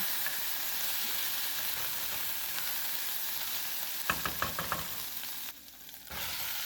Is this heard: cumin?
yes